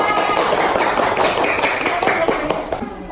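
Classroom group clapping for group A, a brisk, close burst of many hands clapping steadily through the whole moment.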